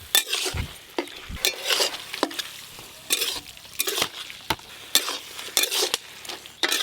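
Spinach ghonto being stirred in a pan once sugar goes in: a spoon scrapes and knocks against the metal in repeated strokes, with a soft sizzle running underneath, close and fairly quiet.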